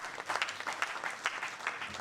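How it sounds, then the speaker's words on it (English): Audience at a gender mainstreaming event applauding, a brief soft patter of many hands clapping at moderate distance, with no one talking over it. "I hope you will clap."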